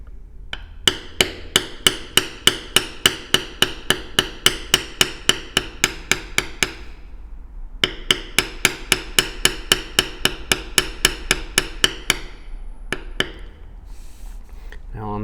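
Steady, evenly spaced metallic taps ring out as a mallet strikes a beveler tool into leather, two long runs of rapid knocks separated by a brief pause, close and crisp with a few scattered final hits.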